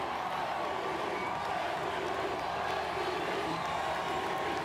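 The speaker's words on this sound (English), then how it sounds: "Definitely hearing the cheer of the crowd." A distant outdoor crowd on Boston Common produces a continuous rumble of cheering and murmuring, with faint clapping and whoops folded into a steady, moderately quiet roar that neither swells nor fades.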